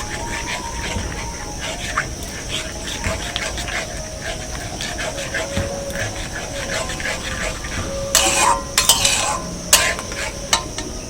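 Semolina and cashews being stirred in a pan, a continuous scraping and light sizzle with a few louder clattering scrapes near the end, and a voice talking over it.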